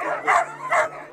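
Two sharp, loud barks in quick succession from excited sled dogs waiting on a trailer in Colorado, close by, over a steady low hum.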